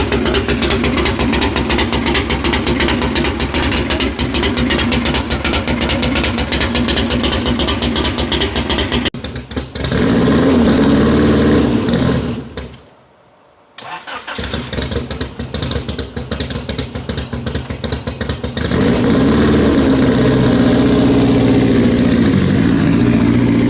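A race car engine idles at about 600 RPM, a loud, close, steady rumble that dips briefly to near silence partway through, then comes back up and runs on steadily with no talking.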